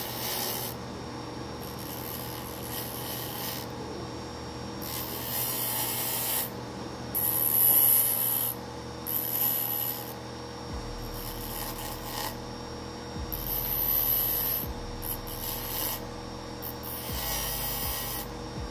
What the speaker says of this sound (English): it goes onto the grinder for any major flashing or leftover sprue removal